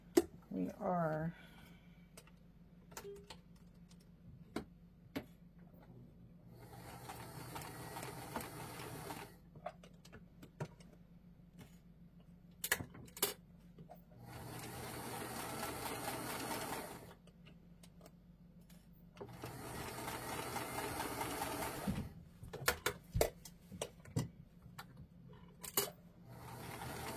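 Sewing machine stitching a fabric dart with blue thread, running in several long bursts of steady whirring and rattling with pauses and a few light clicks between runs, fairly near.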